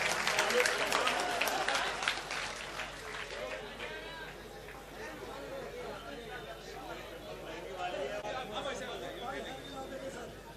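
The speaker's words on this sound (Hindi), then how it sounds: "हर शख्स तालियां बजाए भाई।" A mushaira audience in Malegaon breaking into applause, a burst of clapping that fades into crowd chatter and murmuring, with a voice carrying over the hall.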